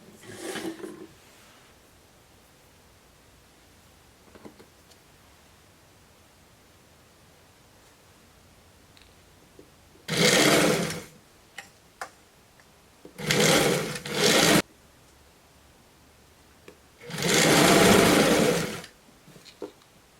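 A sewing machine stitches a fabric binding strip onto a simple Japanese-style dress, running in three separate loud bursts of about one to two seconds each, with quiet pauses between them and no talking.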